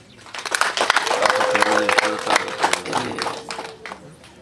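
Guests at a wedding celebration in Rwamagana, Rwanda, clap in a burst of applause that swells and fades, with a voice speaking over it.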